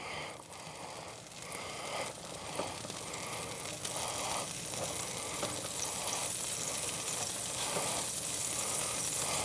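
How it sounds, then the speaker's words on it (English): Steady, bright sizzling of asparagus frying in a hot pan, continuous and close, with faint clinks and scrapes now and then. "You hear it sizzling."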